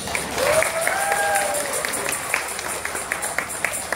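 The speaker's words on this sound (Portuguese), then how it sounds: "vamos dar uma salva de palmas" Audience applause at a round table seminar on the conclusions of a water meeting, a moderate wash of clapping with a voice heard faintly alongside, tapering into scattered claps.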